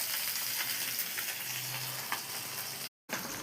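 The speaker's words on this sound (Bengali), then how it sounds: "এই যে এখন মাছ ভাজা করছি।" Fish frying in a pan on a large fire-stoked clay stove, a constant close sizzle and crackle with scattered pops and a brief drop-out near the end.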